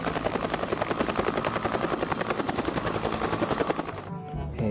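A toy army helicopter gives off a loud, fast-pulsing whir with a rattling, machine-gun-like chop that stays steady for about four seconds before cutting off.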